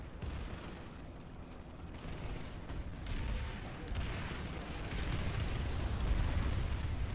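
Tank shell shots and explosions in the video game Planetside 2, a dense, continuous roar of gunfire and blasts with heavy low rumble that builds steadily louder, without clear separate hits.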